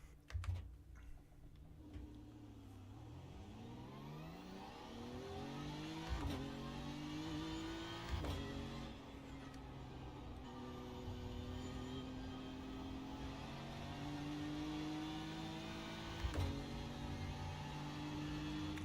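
GT race car engine in the sim racing game iRacing, a steady drone with rising harmonic sweeps through upshifts and a few sharp downshift blips, continuous and close throughout with no talk.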